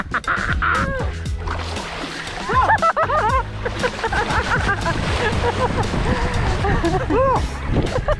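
People splashing into cold sea water at a beach, loud continuous sloshing and splatter mixed with excited shouts and voices close by throughout.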